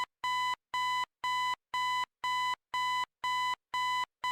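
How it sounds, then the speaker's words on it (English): A video game alarm clock beeping loudly in regular pulses, nine even bursts about half a second apart with short gaps between, alone with no voices. "What is... Oh, the alarm clock?"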